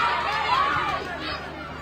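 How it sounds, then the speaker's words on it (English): At a rugby nines playoff match, a crowd roars as a broad, steady wash of voices, with shouts rising briefly above the general din before it eases slightly. "You've got the crowd shouting"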